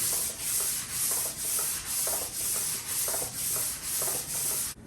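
Hand sanding of a cylinder head with 600 grit sandpaper under very light pressure, a steady rhythmic back-and-forth scrape repeating about once a second, close and continuous with no talk.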